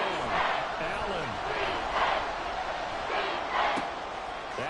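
Stadium crowd in a football video game, a steady broad roar at moderate level with swelling surges, running continuously under the play.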